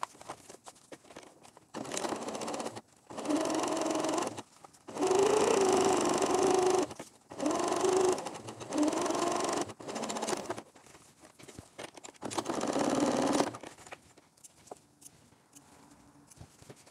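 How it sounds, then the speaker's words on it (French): A sewing machine topstitches a bra's underwire channelling in several bursts of steady mechanical stitching, each lasting a second or two and separated by short pauses, close and fairly loud with no talking. "Je verrai si je vais jusqu'au bout et si je fais ma surpiqûre complète ou pas."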